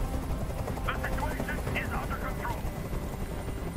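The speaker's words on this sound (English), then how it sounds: "Tell that helicopter to get out of here!" A helicopter's chopping rotor drone in the video game Detroit: Become Human, loud and continuous, with voices talking over it.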